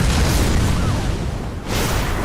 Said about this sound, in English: And he's got a cannon.